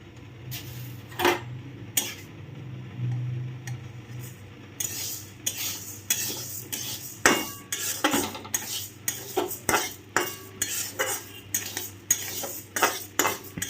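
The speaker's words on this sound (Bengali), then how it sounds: "মুগ ডালটাকে খুব ভালো করে আগে রোস্ট করে নেব বা একটু ড্রাইভাবে ভেজে নেব" A metal utensil scrapes and clinks against a pan while mung dal is dry roasted and stirred, with a steady run of close, rhythmic scraping strokes and no talk.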